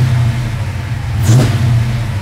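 A car engine fitted with FiTech ignition timing control idling with a steady low rumble, then given a brief quick rev that swells and settles back, recorded close.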